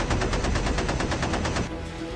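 A rapid, steady burst of machine gun fire in the B-17: Queen of the Skies game rattles loud and close for about a second and a half, then cuts off into a lower rumble.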